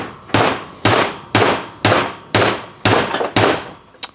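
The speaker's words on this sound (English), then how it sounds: "and you're ready to drive it in with a hammer." Seven evenly spaced, loud, ringing hammer blows strike a Harbor Freight bearing and seal driver, pounding a bearing race into place, close up with a sharp metallic attack and short decay after each hit.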